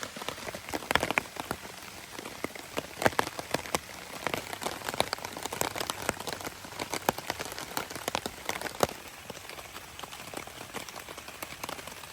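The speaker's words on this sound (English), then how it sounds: "That rain seems to be picking up here." Steady rain patters on a blue tarp shelter at a campsite, dense with irregular louder drops popping through the hiss, continuous for the whole stretch with no talking.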